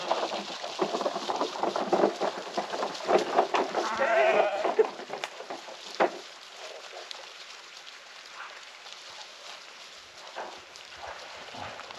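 Sheep bleat outdoors as they are moved onto new ground, several calls in the first half over rustling and possible rain, then quieter background.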